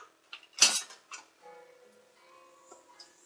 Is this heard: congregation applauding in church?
no